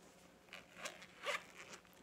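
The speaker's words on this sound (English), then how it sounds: "It has the little Brighton leather pull for the zipper." Zipper on a Brighton handbag with a small leather pull, a few short close zipping strokes with brief quiet gaps between them.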